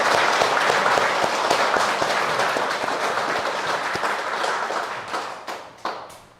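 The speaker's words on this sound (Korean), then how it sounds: "그분들을 위해서 우리도 한 박수를 한번 칩시다." Congregation at a Buddhist Pure Land chanting dharma talk applauds together, a dense sustained wash of clapping that gradually thins and fades with scattered final claps.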